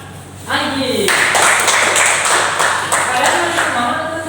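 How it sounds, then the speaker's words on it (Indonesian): An elementary school class applauding a student during a lesson, with brief clapping and voices talking and calling out over it, close and fairly loud. "Beri tepuk tangan kepada"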